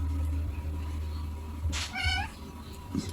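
A pet cat at home lets out a short run of clear meows near the middle, over a steady low indoor hum with faint rustling around it.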